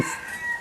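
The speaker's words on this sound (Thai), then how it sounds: "อันนี้แหละคือเสียงไก่ขัน" A rooster crows in one short burst, a bright, strained call that starts abruptly and tapers off.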